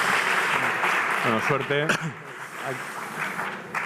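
Audience applause at a talk on telemedicine and digital health, a continuous wash of clapping under which someone speaks briefly in the middle.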